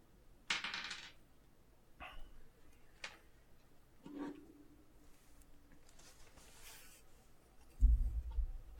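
Dice are rolled across a table during a tabletop game, bringing a few separate clattering bursts spread over several seconds, quiet and close, then a heavier thump near the end.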